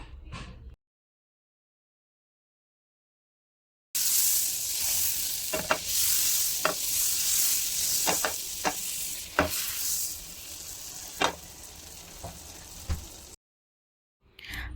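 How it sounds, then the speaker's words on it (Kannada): Butter melts in the same frying pan used for broccoli, a bright steady sizzle with scattered sharp spatula clicks, bracketed by silence at both ends. "ಅದೇ ಬಾಣಲಿಗೆ ಇನ್ನೂ ಸ್ವಲ್ಪ ಬೆಣ್ಣೆ ಹಾಕ್ಕೊಂಡು ಚೆನ್ನಾಗಿ ಕರಗಿಸ್ಕೊಳ್ಬೇಕು"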